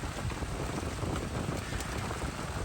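A heavy rainstorm downpour pelts a canoe at a campsite, with hail striking the hull amid dense, steady, loud hiss and patter of rain filling the scene without pause.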